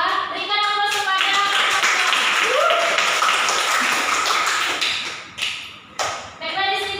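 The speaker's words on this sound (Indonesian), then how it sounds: "Berikan aplaus kepada" Students applaud in a classroom, a steady burst of clapping that builds and holds for several seconds, then tapers off into scattered claps.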